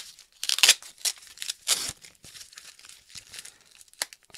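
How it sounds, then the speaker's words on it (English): Packing tape is peeled and torn off a cardboard mail package of baseball cards, giving a run of loud crinkling, ripping bursts with quieter rustling between them, close by and with no talk. "If I can get this tape off here."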